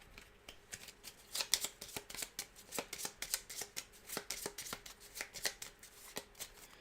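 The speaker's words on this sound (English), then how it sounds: "I forgot to shuffle these cards the last round." Game cards for Cthulhu: Death May Die are shuffled in a quick, repeated series of crisp riffles and snaps, close and fairly soft, with no talking.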